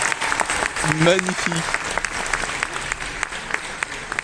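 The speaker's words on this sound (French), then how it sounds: "on peut l'applaudir encore une fois bien sûr le Chosen Adved, tiré de l'univers de Dark Souls" Audience applause for a Dark Souls Chosen Undead cosplayer at a Paris Games Week cosplay final, a steady dense clapping wash filling the hall while a host's voice speaks briefly over it.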